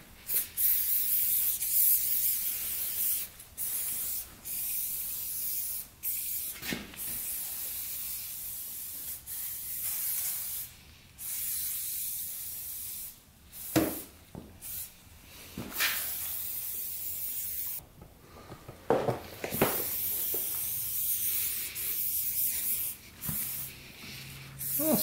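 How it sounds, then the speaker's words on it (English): Motul Shine and Go is sprayed onto a moped in repeated hissing aerosol bursts of varying length, close and crisp, separated by short pauses and quieter rubbing. "You're supposed to just spray it on and let it sit for a minute."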